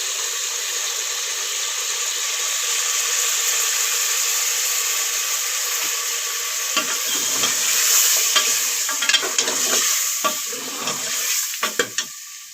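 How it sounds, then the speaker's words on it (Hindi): Chicken frying in a pan with yogurt being added and stirred, a steady broad sizzle throughout with scraping stirring strokes growing more frequent and sharper toward the end. "ये चिकन जो है ना थोड़ा सा हमने इसको फ्राई किया है, और अभी हम इसमें दही डाल रहे हैं।"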